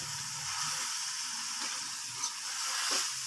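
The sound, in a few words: minced meat (keema) frying with garlic-ginger paste and spices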